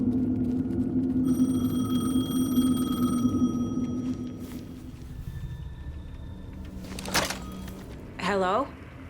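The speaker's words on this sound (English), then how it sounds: "The payphone was ringing." A payphone rings in a video game, a steady electronic ring tone over a low rumbling ambience, followed by a thunk and a brief burst of other sound.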